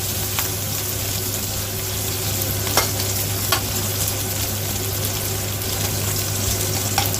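Dried mushrooms, dried shrimp and bacon stir-fried in a wok give a steady, close sizzle with scattered clicks of the utensil against the pan, with no voices.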